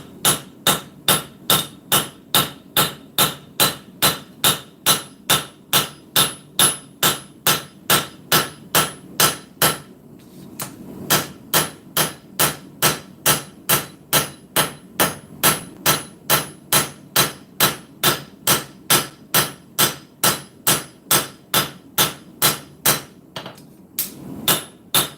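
Steady, evenly spaced hammer blows ring out as a blacksmith forges the bevels on a knife blade, loud and close, with one brief pause partway through before the rhythmic striking resumes.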